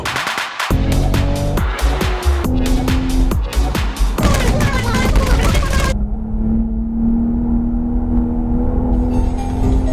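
A Toyota Supra launching on a race track: a loud engine roar rising in pitch through several quick gear changes, then settling into a steadier high drone as the car pulls away.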